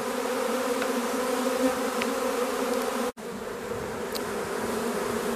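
A dense, steady buzz of many honeybees swarming around a hive hums continuously at close range, with no voices, briefly interrupted by a short cut.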